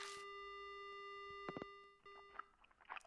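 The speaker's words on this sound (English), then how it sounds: "The only sound I hear is the dial tone." A telephone dial tone in the Death Mark horror game hums as a steady pure tone, then gives way to faint clicks and soft scattered noises, quiet and without speech.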